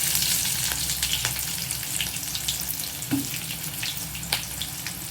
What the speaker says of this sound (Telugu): ఇవంతా కూడా కొంచెం దోరగా వేగనియాలి